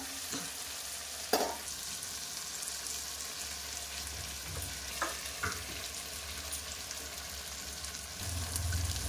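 Fried potatoes tumble into a pan of ghee-coated rice mix, with a few sharp scraping knocks of a spoon over a steady low frying sizzle, then a louder rumble near the end.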